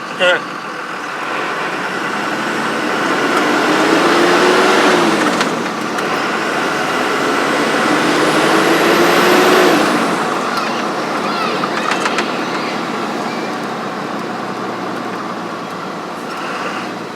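A Dodge Ram 2500 pickup truck after a rear axle replacement, heard from inside while driving, with a steady engine and road drone that swells as it accelerates, whining gear tones rising and falling, and a voice talking over it.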